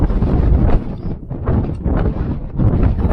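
Wind gusting across the misty rural hills near Ooty, a steady broadband rush buffeting the microphone in waves, loud and close with no talk.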